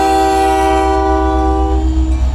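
Union Pacific 1091, a Chandler local freight train, departs after shunting with a loud, sustained horn blast and a steady low engine rumble close by, no voices.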